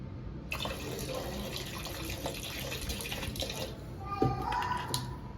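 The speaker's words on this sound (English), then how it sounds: "I'm gonna pour my handy dandy Fabuloso inside of this water" Fabuloso cleaner pours into a bucket of water for bathroom cleaning, a close, steady liquid stream splashing for several seconds before tapering off near the end, while faint voices murmur in the background.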